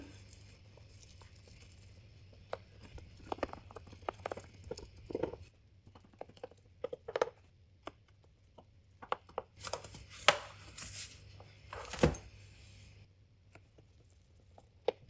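A knife or cutter slicing through a thick homemade potato pizza, giving a string of close, crisp chopping and crunching cuts in irregular bursts with short pauses between, no talking.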